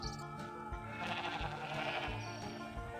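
Sheep bleating in the farming game Hay Day during a Halloween event, a few wavering, buzzy bleats over a continuous layered musical background, no talking.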